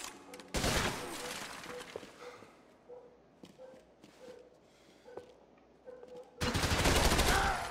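Bursts of loud gunfire from the video game Max Payne 3 open and close the stretch, with scattered quieter shots and clicks in between.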